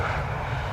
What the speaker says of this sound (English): Yep, no reverser landing.